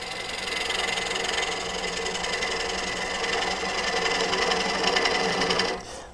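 A spindle detail gouge cuts a live-edge wooden bowl with an embedded nut on a wood lathe, giving a steady buzzing, rasping whir that holds evenly before cutting off abruptly at the end; no talking.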